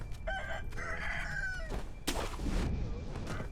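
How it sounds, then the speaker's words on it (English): Roosters crow repeatedly in the Sekiro game world, several drawn-out calls overlapping against a steady low ambient rumble, fairly close and loud with a sharp burst midway. "I hate that these roosters are going off."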